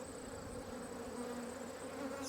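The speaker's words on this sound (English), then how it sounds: "so there's still a lot of bees swarming around here" A swarm of bees hovers around a hive box, giving a faint, steady, continuous buzzing hum with no talking.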